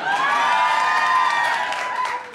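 Festival panel audience clapping and cheering with whoops, a loud, dense, steady wash of applause and voices that eases off near the end.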